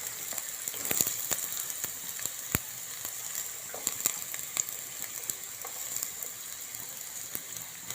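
Onion and green chillies sautéing in a pan with a little salt for an egg sandwich, giving a steady soft sizzle with scattered clicks and scrapes of stirring throughout.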